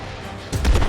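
A grenade explodes in the video game Worms W.M.D.: a short quiet lead-in, then a sudden loud booming burst with crackling debris.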